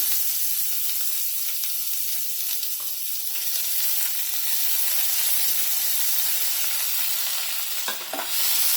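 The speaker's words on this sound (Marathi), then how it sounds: "कांदा चांगला लाल होईपर्यंत भाजायचा आहे" Chopped onion fries in a pan for a drumstick (shevga) curry, a loud, continuous close sizzle and hiss with faint stirring scrapes running throughout.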